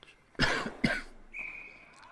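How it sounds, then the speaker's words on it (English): A sports commentator coughs twice in quick succession, close to the microphone and loud, followed by a faint lingering tone. "I'm just gonna mute my mic for a second so I can cough out."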